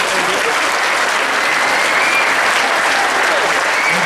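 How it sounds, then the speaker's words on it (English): A school band banquet audience applauds the old drum majors with loud, dense, sustained clapping that fills the room evenly from start to finish. "let's have a round of applause for our old drum majors"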